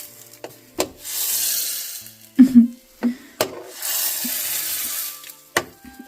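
Kashmiri red chilli tempering (tadka) sizzles in hot oil in a pan, with hissing bursts that swell and fade between sharp scraping and stirring knocks, close and moderately loud, with no talking.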